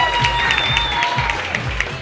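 Audience at a live Mister Chile show applauding the program's director: dense, loud clapping from a crowd, sustained through the whole moment, with faint voices and cheers mixed in.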